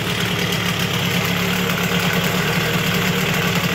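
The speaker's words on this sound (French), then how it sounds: "Donc là, voilà, le moteur tourne." A water-cooled 70cc engine in an MBK 51 XR moped idles close by, a loud, steady buzzing putter with a fast even pulse and no voices over it.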